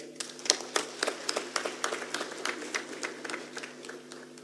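An audience at the African Union High Level Private Sector Forum applauds, a steady wash of many hands clapping at moderate distance that holds evenly for several seconds without speech.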